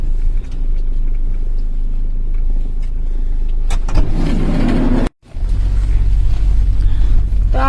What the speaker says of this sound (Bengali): নজরুল মামা ড্রাইভ করছেন দক্ষ হাতে